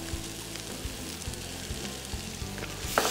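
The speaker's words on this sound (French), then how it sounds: "Là, l'oignon, il est bien bruni. Donc, je vais mettre la cassonade." Browned onions fry in a pan as brown sugar goes in for Liège meatballs, giving a steady, close sizzle and crackle that runs unbroken through the moment with no voices.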